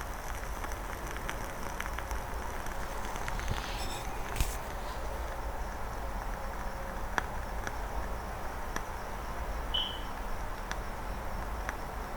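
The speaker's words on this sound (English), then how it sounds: "you might be able to hear the crickets more than the candle" Crickets chirp in a steady, continuous trill under faint background hiss, with an occasional soft tick.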